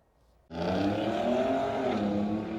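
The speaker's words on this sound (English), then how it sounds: "A car heard speeding away." A car engine suddenly roars to life and speeds off during a street race in Manhattan, a loud sustained rising rev with a throaty growl, close by.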